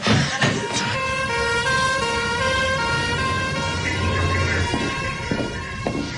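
An ambulance siren wails with a sustained, wavering tone over low traffic rumble, steady and moderately close for several seconds, with no talk over it.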